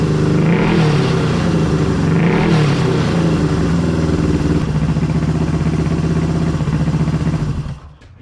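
A Honda CB360 motorcycle engine runs steadily during break-in, a loud close idle with a throbbing, slightly uneven beat that holds for several seconds before cutting off near the end.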